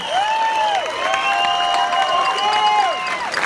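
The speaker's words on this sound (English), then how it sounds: "Another round of applause for Sam Jones!" Audience applause and cheering at a Flash Gordon screening at the Alamo Drafthouse, with clapping and whistles blended with shouting and crowd noise, steady and loud throughout.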